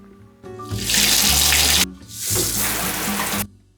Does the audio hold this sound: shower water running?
yes